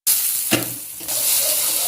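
A vegetable fry sizzles in a pan, a bright, steady hiss of frying oil close up, briefly interrupted by a soft clunk before the sizzle resumes at full strength.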